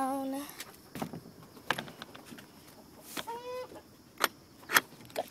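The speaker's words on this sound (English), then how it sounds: "Now over here is where our chickens are." Chickens in their coop on a small farm, scattered clucks and squawks close by amid rustling and clanks, with a person speaking briefly.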